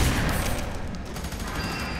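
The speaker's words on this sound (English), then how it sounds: "I love this shotgun, seriously." Shotgun blasts in the first-person shooter F.E.A.R. 3 roar in a dense, continuous barrage, loud and booming with crashing impacts blending together, no talk over it.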